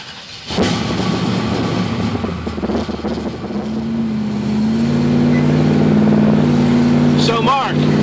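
Car engine fitted with Edelbrock E-Street EFI fires up after a brief crank and settles into a steady, loud idle that rises slightly, with a humming drone continuing to the end.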